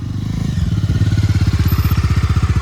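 A 2024 Bajaj Dominar 250 motorcycle engine idles steadily close by, a loud, regular thumping pulse throughout with no voices over it.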